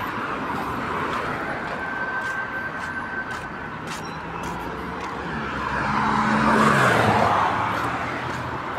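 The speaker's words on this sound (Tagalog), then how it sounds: "Maraming sasakyan na dumadaan." Vehicles keep passing along a town street at night, with a steady traffic hum and one car swelling louder as it goes by near the end.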